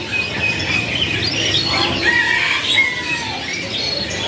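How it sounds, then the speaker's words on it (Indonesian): A busy chorus of AFS canaries in a bird kiosk chirping and twittering, many overlapping high calls close by, continuous throughout. "buat kalian ya yang lagi nyari burung kenari dari jenis AFS yang sudah gacoran"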